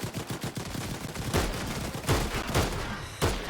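Video game gunfire rattles in repeated bursts, with rapid shots early on and heavier volleys near 1.4, 2.1, 2.6 and 3.3 seconds, loud and close with no talking.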